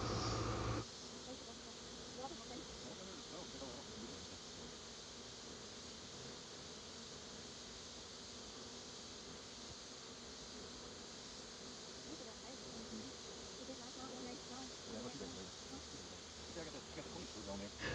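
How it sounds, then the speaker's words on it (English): A swarm of honey bees moving into hive boxes makes a steady, dense buzzing hum that stays loud and even throughout, with faint outdoor background beneath it. "I'm leaving this running in fast motion just to show the transition of all the bees coming in"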